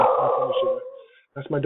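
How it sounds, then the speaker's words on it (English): A dog barks in the background of a physics class lecture, its bark mixed in and partly masked by someone talking over it at close range. "dog. Barking at nothing."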